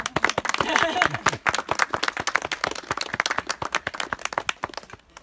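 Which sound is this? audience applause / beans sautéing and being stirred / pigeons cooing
audience applause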